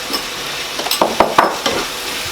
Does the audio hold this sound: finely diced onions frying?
yes